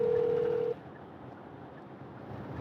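A phone line plays a steady electronic calling tone while a call connects. The tone lasts under a second, then cuts off and leaves quiet background noise.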